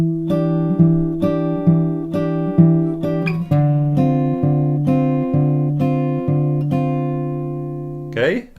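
An acoustic guitar plays bars 5 and 6 of a song, a steady run of plucked, sustained notes moving between two chord shapes, close and clean, ending with a brief scrape of fingers on strings.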